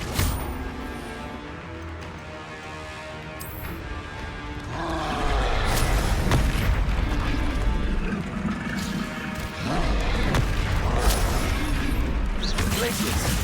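Confringo blasting spells fire off in the Hogwarts Legacy video game, with repeated crashing bursts and booming impacts that swell louder partway through and stay dense against continuous game music and effects.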